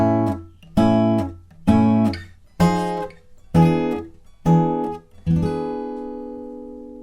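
Acoustic guitar strumming the third break of a song, six full chord strums at a steady pace, each ringing briefly, with the last chord left to sustain and fade, no voice.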